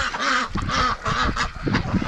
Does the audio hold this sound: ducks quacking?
yes